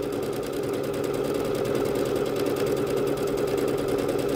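A Bernette B-77 sewing machine stitches steadily, its motor humming with a fast, even needle clatter that runs loud and unbroken throughout.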